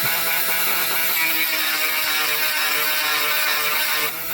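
Continuous high-pitched whining grind of a Granberg electric chainsaw sharpener on a chainsaw chain, loud and steady for several seconds before briefly easing off at the end.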